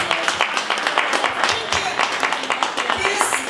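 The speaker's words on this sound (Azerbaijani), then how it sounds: "O fədakar ailəni də Vüqar müəllimin rəhbərliyi ilə bir ürəkdən alqışlayaq." Audience applause at an award ceremony, a steady run of dense hand claps from a seated crowd, moderately loud throughout with a voice speaking over it.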